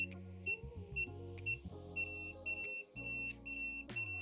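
Repeated electronic beeps from a PET HEY F900+ wireless dog fence remote controller, sounding in short bursts over a droning tone, close and fairly quiet.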